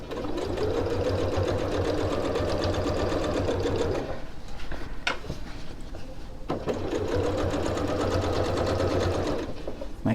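Close and loud, a sewing machine stitches a tote bag in a steady, rapid hum, broken by a short pause in the middle before it resumes sewing.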